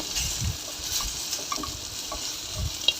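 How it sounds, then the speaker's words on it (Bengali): Potato pieces frying in hot oil in a pan while cooking an okra curry, giving a continuous bright bubbling sizzle with occasional soft knocks and low handling thumps, fairly close. "এই তেলে আমি আলু দিয়েছি যে কয় পিস, সেই আলু কয়টা ভেজে নেব।"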